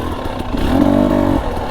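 GasGas EC300 two-stroke dirt bike on a trail revs up in a short burst, its engine note rising and falling in a loud, close snarl with no speech.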